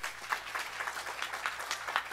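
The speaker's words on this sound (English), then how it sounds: "I want you to give all of them, especially him, a big round of applause." Steady applause from a crowd at a Sunday satsang, moderately distant, with continuous clapping and no talking.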